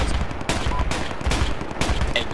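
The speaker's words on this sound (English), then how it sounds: "It's a quad cannon." A truck-mounted quad cannon fires in the Project Reality military video game, heard as several loud, booming bursts spaced about half a second apart over a dense roar of battle noise.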